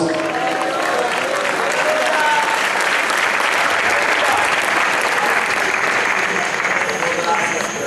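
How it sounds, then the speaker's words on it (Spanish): A church congregation in an open auditorium in Mitú, Vaupés, gives loud, sustained applause to Jesus during a missionary movement service. The clapping holds at a thick, even roar for the full eight seconds, with faint voices mixed into the crowd. "denle un fuerte aplauso a Jesús"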